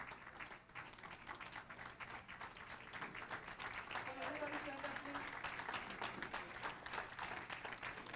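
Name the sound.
applause for the awardees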